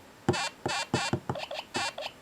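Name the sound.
LEGO Super Mario mushroom toy making jumping noises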